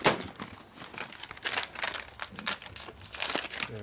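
Plastic bag crinkling as a shaft for a 1977 Harley-Davidson XLCR 1000cc Sportster Ironhead engine rebuild is unwrapped, close-up bursts of crackling and rustling in irregular clusters, with no talk.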